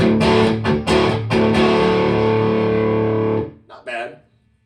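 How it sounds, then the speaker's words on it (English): Old single-coil Telecaster electric guitar tuned to drop D, strummed chords ringing loud and sustained with a slightly gritty, effected tone, cut off before a couple of brief quieter notes. "So the old Tele sounds like this."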